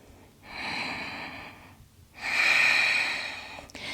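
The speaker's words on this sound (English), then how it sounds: "1 deep breath here." Two deep breaths during a yoga flow, a long airy inhale followed by a louder, fuller exhale, close to the microphone with no talking.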